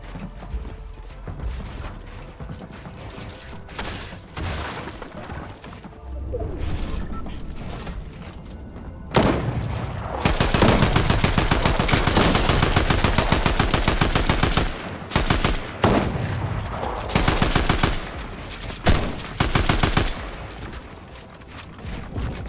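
Gunfire crackles through a Fortnite ranked match, with bursts of rapid automatic shots and single loud reports stacked into dense stretches, loud and close, mixed with game mechanisms and footstep-like clatter.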